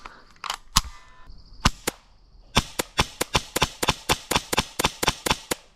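An airsoft gun fires at a target: a few separated sharp cracks, then a fast, regular string of about fifteen snappy shots, loud and close, with no talking.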